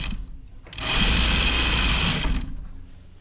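A sewing machine runs a 5/8 inch seam on an Azara skirt in one steady burst of about a second and a half, close and loud, with quiet room sound before and after.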